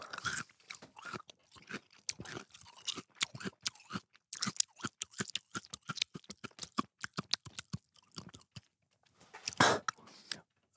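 Celery stalk being chewed during a blindfold taste-test food game: dense, close crunching bites in a rapid irregular rhythm for about ten seconds, with a loud final burst of crunching near the end.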